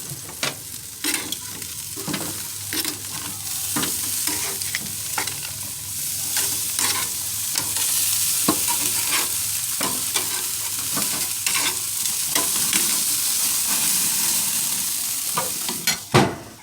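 Pork ribs sizzle and fry on a barbecue grill in a steady crackling hiss, punctuated by frequent sharp pops and spits, close and moderately loud throughout with a louder burst at the end.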